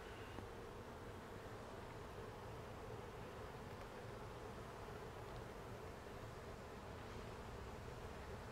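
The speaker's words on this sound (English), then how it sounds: "all the bees are going to walk in the hive and follow her pheromone" Honey bees swarm around an open-air nest in a continuous, faint buzzing drone that holds steady throughout, with no talking.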